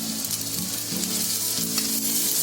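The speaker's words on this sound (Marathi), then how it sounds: "तेल टाकलेलं आहे. आता त्याच्यामध्ये कांदा टाकते." Chopped onions hit hot oil in a pan, giving a steady, close hiss of frying with faint stirring scrapes for a Konkani-style clam curry.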